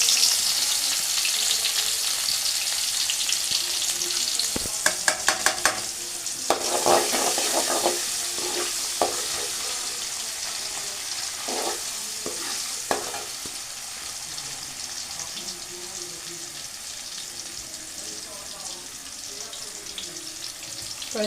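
Cumin and chillies frying in a pan, a continuous sizzle broken by several sharp spatters and a cluster of scraping stirs early on, then settling to a quieter steady hiss.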